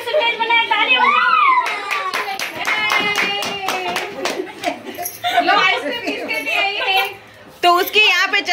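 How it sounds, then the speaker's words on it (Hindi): A group claps for children at a family party, bursts of hand claps mixed with kids' chatter and light laughter, voices overlapping the clapping up close. "ताली बजाओ।"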